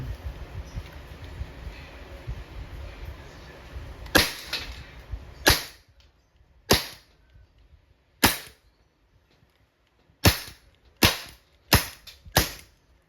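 Seven sharp, loud pistol shots from an Umarex M92FS full-metal non-blowback air pistol, spaced unevenly, the first few separated by pauses and the last four coming quicker, over low background rumble.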